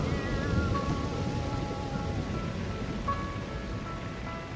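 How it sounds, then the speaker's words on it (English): Steady dense hiss of heavy rain pouring down, continuous and fairly close, with faint high tonal whistles drifting in and out over the downpour. "it started raining. Not just raining, but really pouring."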